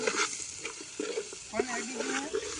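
Onions fry in hot oil while being stirred for a cashew paneer curry, a steady close sizzle with scraping stir sounds and some talk over it.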